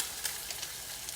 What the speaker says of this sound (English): cook the outer layer so it's kind of like frying in the grease